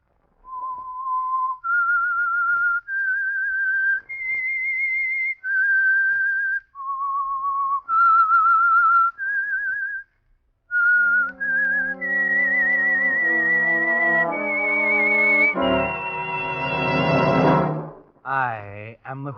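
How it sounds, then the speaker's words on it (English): A clear whistled theme melody from the 1947 radio drama The Whistler, with sustained, sliding notes, plays alone, then swells with an orchestral accompaniment toward the end. "That whistle is your signal"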